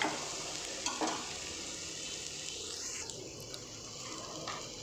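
Masala spices sizzle steadily in a pan over a low-medium gas flame for gota masala chicken, with occasional stirring scrapes, close and continuous.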